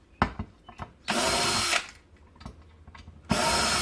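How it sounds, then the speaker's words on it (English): A DeWalt 20-volt max cordless drill drives screws. Two loud, sustained whirring runs are separated by scattered clicks and handling knocks, all close up with no talking. "this thing just zips through the screws without any problem whatsoever"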